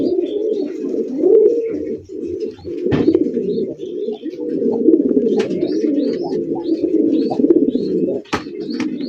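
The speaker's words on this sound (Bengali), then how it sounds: "1800 টাকায় কালারিং রাসগোল্লা কবুতর" Colouring rasgolla pigeons coo continuously in a loft, with low throaty rolling calls overlapping at close range. Faint chirps and a few sharp knocks are heard in the background.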